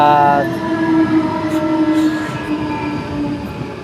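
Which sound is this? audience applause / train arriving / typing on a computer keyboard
train arriving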